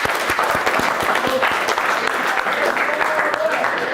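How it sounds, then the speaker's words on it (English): Audience applause in a church-style gathering, a steady wash of many hands clapping for a man who lost 30 pounds, loud and continuous throughout with some voices mixed in. "Somebody give that man a hand clap"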